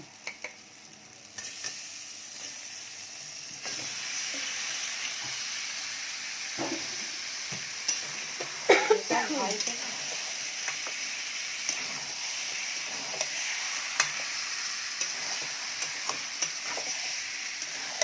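Kadai chicken pieces sizzling with masala in a kadai, a continuous hiss of frying with scraping stirs and a louder burst of spitting around the middle, no talking.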